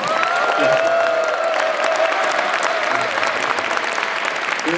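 Audience applause with scattered cheering fills a hall at a book launch ceremony, a dense steady wash of clapping with a few voices rising above it, sustained for several seconds.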